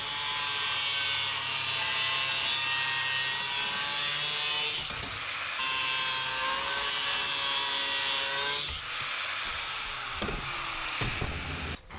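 A power tool shrieks steadily through metal for a motorcycle top box bracket on a Husqvarna Svartpilen, a loud continuous high whine with brief pauses and shifts in pitch as the cut progresses.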